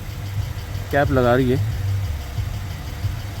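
A car's engine idles as a low, steady rumble beneath a voice talking over it, after the car has been eased forward on a street lined with restaurants in the US.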